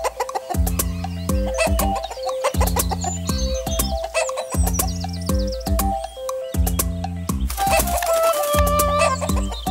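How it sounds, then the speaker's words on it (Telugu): A chicken clucks near a house in an animated children's story, with repeated short clucks and squawks set against a rhythmic, bouncy music track that pulses in regular bursts throughout. "అతని ఇంటి దగ్గరలో ఒక కోడి అరుపు వినిపించింది"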